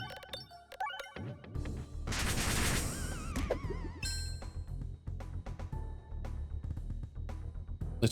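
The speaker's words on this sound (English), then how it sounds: "shoot this while we still have some gold on the board" Orb shots in the video game Peglin, a run of bright pinging and clinking impacts as pegs are struck, with a dense burst of layered hits and rising tones in the middle, alone without voices.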